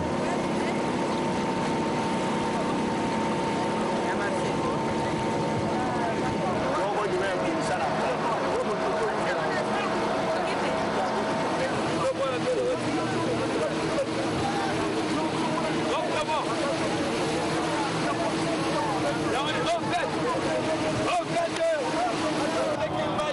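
Large motorized pirogues with outboard motors run on the Congo River, and their steady engine drone hums through wind and water noise for the whole stretch.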